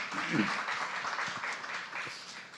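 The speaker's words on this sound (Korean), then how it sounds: "우리 박수로 한번 축복할까요?" A church congregation claps in blessing for a newly married couple during a Sunday service, a soft, fairly brief patter of many hands with a voice briefly audible near the start.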